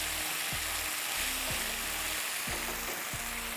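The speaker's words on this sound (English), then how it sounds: "I'm going to saute everything together." Chicken 65 sautés in a pan with chilli garlic sauce, a dense even sizzle running under a low background hum with a few faint stirring taps.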